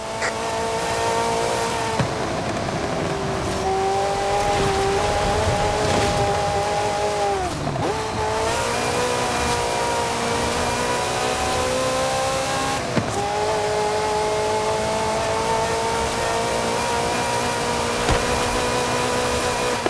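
A Ferrari engine in Forza Horizon 5 holds a steady, loud drone throughout, with its pitch sagging briefly and then climbing again around two gear changes. Tire noise sits underneath, and no voices are present.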